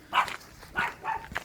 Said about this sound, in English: This little dog is dedicated.